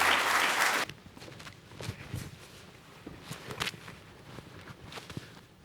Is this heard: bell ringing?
no